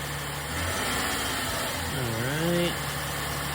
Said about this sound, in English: Okay, rev it up a little bit.